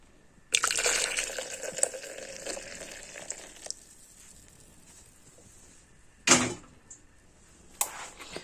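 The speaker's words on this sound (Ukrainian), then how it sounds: "І тепер заливаємо знову окропом." Boiling water is poured over steeped tea leaves in a vessel, giving a long splashing pour followed by shorter bursts and clinks, close and fairly loud with no talk.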